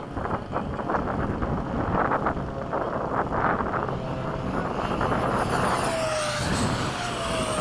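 An F-16 fighter jet making a fast, low pass over a formation gives a loud, steady roar of engine and rushing wind that holds throughout, with a faint rising whine near the end.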